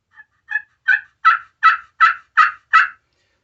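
A larger turkey call played with a striker sends out eight loud, raspy yelps in an even cadence. The notes build in volume, sound close, and come through without any speech.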